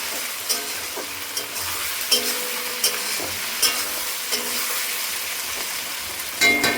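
Masala with turmeric and salt frying in a pan for a chicken dish, a steady hiss of sizzling oil broken by periodic scrapes and taps of a spoon as it is stirred, close and continuous.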